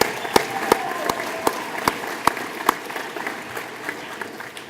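Audience applause at an Alaska Military Youth Academy graduation ceremony: a steady wash of clapping from a crowd, with sharper individual claps standing out at a regular beat throughout.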